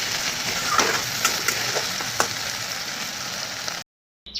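Sliced onion, garlic, coriander powder and a little cumin fry for a dried fish curry, making a steady, close sizzle with small crackles throughout that cuts off abruptly near the end.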